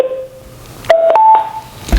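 A wireless mini speaker powering on with a short electronic chime of rising tones, one held note followed by two brief higher beeps, close and clear, ending with a soft click.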